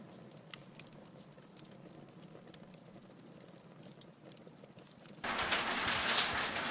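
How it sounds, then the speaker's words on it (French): Hail patters against windows, first as a light scattered ticking, then as a sudden loud, dense hammering for the last second and a half, with no talk. "c'est la grêle qui tape"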